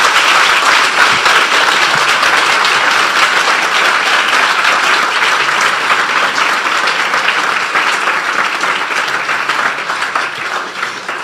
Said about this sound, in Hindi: आइए प्रभु के लिए एक अच्छी ताली बजाएंगे हम मिलकर।